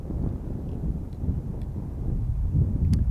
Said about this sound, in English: Now it's pretty windy out here